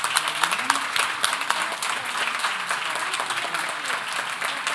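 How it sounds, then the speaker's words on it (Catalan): Audience applause at the Jordi Pujiula 2025 award ceremony as two science prize winners are honoured, a steady dense clapping throughout with some voices and chatter mixed in underneath. "Un fort aplaudiment per elles."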